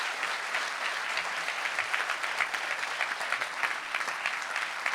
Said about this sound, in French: Ouais, on peut l'applaudir.